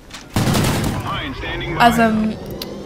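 A Remington R5 rifle in Call of Duty Ghosts fires a quick burst of close, sharp shots, then gives way to softer game effects as a voice talks over the tail.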